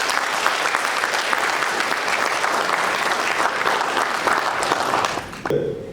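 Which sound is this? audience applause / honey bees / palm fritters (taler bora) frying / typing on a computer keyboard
audience applause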